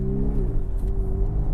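A 1992 Mercedes 230TE W124 estate spins its wheels and accelerates, its engine note climbing in a steady, close, loud drone heard from inside the car.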